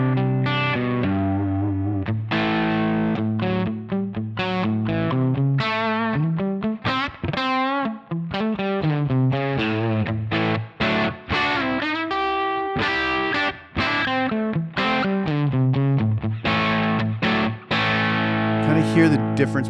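Electric guitar played through a Line 6 Helix with two overdrive amp models, a Fender-style and a Marshall-style, blended together: a continuous, loud, dense distorted riff with chords and single notes, with effects coloring the tone.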